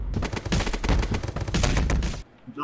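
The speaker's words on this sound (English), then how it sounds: "the police came in and shot you" Police gunfire in a video game: a dense, loud volley of rapid shots, crackling for about two seconds before stopping abruptly.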